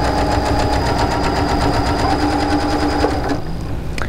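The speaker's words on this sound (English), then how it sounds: "now I'm going to put them together and sew a 1/4 inch seam" A sewing machine runs continuously and loudly, joining two quilt blocks with a quarter-inch seam, its close, even motor hum and rapid needle chatter steady throughout the four seconds.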